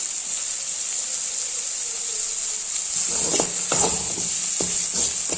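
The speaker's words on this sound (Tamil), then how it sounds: "இப்போ நம்ம சேர்த்த எல்லா ஐட்டமும் நல்லா வதங்கியாச்சு" Idli Manchurian ingredients sauté with chili powder in a hot pan, a bright steady sizzle that swells as stirring begins, with several scraping strokes of the spatula close by.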